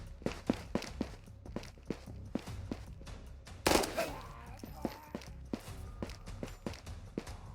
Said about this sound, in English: but I was hearing quite a bit of footsteps.